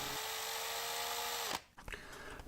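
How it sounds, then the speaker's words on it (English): A power drill runs in reverse with a bolt extractor bit fitted, a steady close whine that holds for about a second and a half, then winds down and stops, followed by faint handling noise. "make sure that the drill is in reverse"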